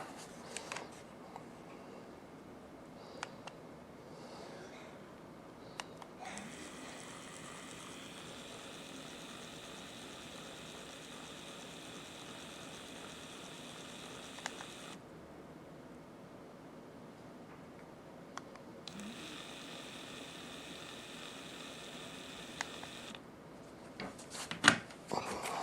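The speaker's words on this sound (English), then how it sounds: "And now the Gaposa smaller battery motor." A small Gaposa battery-powered blind motor whirs with a faint, steady electric hum in two separate runs of several seconds each, with light clicks and handling noises in the quiet gaps.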